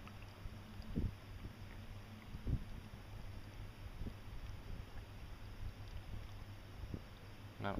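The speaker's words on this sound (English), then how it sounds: "you can hear motors" Boat motors idling on the water near a raising drawbridge at Stickney Point, a low steady engine hum under wind noise with a few soft knocks, distant and faint.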